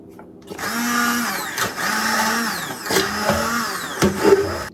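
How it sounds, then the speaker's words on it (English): A motor whirs in repeated bursts as an immersion blender purees cooked apples into applesauce, its pitch dipping and rising with clunks between passes. "get my trusty immersion blender in and blend it till smooth."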